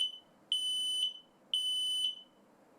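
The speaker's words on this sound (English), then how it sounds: "Test the interconnect by pressing the test button on one alarm to confirm sounder operation on the other network alarms." Two long, loud electronic beeps from a SmokeSight SS10MAMA smoke alarm sounding during a test, each lasting about half a second with a short gap between, over a faint background hum.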